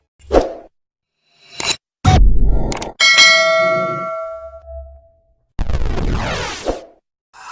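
Notification bell sound effect: a bright ringing ding with a long decaying tone, set among short plops and whooshes of editing effects, loud and isolated against silence with no talk.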